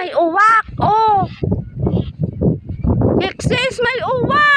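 Harsh crow caws sound at the start and again near the end, with people talking excitedly in between.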